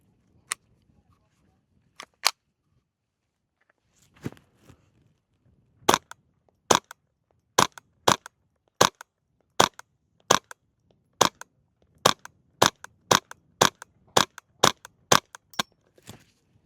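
Ruger Charger .22 pistol firing standard velocity rounds outdoors: a few spaced single shots, then a steady run of about fifteen sharp, loud cracks at roughly half-second intervals, with no talking.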